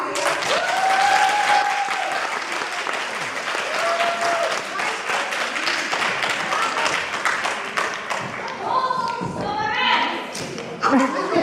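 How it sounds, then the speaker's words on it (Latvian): A support group claps along in a steady burst of applause, with voices talking over the clapping throughout. "Nu, tad atbalsta grupa būs ar aplausu."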